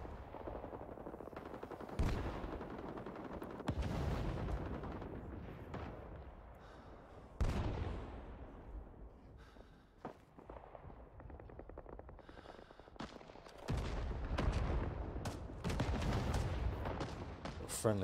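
Rising Storm 2: Vietnam gunfire: repeated sharp shots and short automatic bursts, some loud and close, others farther off, scattered across a noisy battlefield with no speech.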